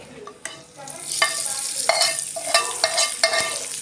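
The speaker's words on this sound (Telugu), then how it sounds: "ఈ పోపును మనం ముందుగానే రెడీ చేసి పెట్టుకున్న బీరకాయ పచ్చడిలో వేసుకోవాలండి" Hot tempering poured into ridge gourd chutney and stirred in: a soft, steady sizzle with repeated scraping strokes of a spoon mixing, close by and with no talk.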